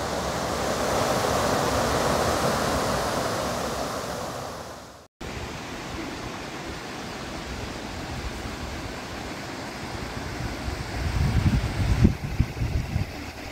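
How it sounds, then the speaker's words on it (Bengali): Rushing water from a waterfall in Meghalaya running low in winter, a steady broadband hiss that carries on without a break, cuts out for a moment, then returns and swells slightly near the end. "ওয়াটারফলটা এখন শীতকাল বলে জলটা অল্প আছে, কিন্তু বর্ষাকালে অনেক বেশি জল হয় এখানে।"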